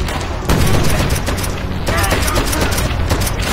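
A grenade explosion and gunfire in Call of Duty: World at War, a World War II shooter: loud, dense, continuous battle noise with booming blasts and rapid shots, with a voice partly mixed in.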